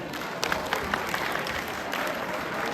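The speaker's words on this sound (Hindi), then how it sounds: "एक बार तालियां हो जाए।" A school audience at a cultural program claps for a young student, a continuous even patter of many hands at moderate volume with scattered sharper claps standing out.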